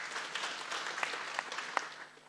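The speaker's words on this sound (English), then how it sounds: "Let's give them a hearty clap" Applause from an audience at a county procurement congress, fairly faint and steady for a couple of seconds with a few sharper individual claps standing out, no talking.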